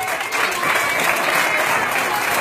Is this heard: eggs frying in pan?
no